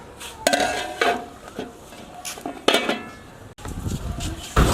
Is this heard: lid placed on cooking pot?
yes